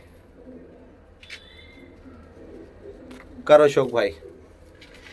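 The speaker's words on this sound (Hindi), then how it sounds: "पंजाबी कबूतरों का" Punjabi Malwai pigeons coo softly in the background, low and steady, while someone speaks briefly and loudly near the end.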